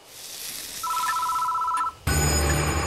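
A telephone rings once in the Death Mark video game, a clear electronic trill, followed by a sudden louder burst of game sound as it cuts off.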